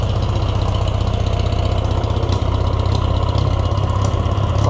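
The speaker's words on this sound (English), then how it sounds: "it's running like the choke's out. Running like a 2-cylinder." An Oliver 1250 tractor engine idling rough and uneven, like it is firing on only two cylinders, with a loud, steady, close chugging drone throughout.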